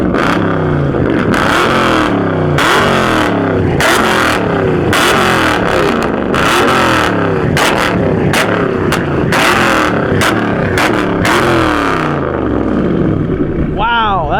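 A car engine revs hard again and again in rapid bursts, loud and close, alongside a BMW E92 M3 comparison, with voices talking over the roar and a brief squeal near the end.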